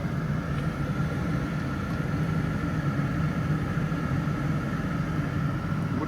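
A heat pump tumble dryer running with a steady mechanical hum and low droning rumble, constant and close, without voices.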